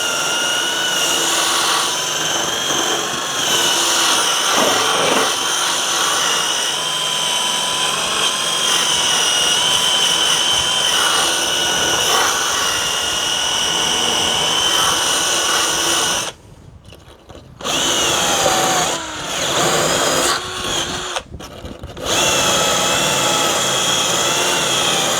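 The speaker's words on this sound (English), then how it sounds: "So gonna get a wire wheel with a power drill," Power drill spinning a wire wheel against rusty bodywork on a 2004 Honda CR-V, a loud continuous whirring grind with shifting pitch as pressure changes, briefly cutting out twice near the end before resuming.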